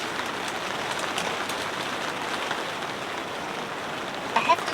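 Heavy rain pours steadily onto a big tent at a car campsite, a dense, even hiss of countless drops that stays constant throughout, with a couple of louder taps near the end.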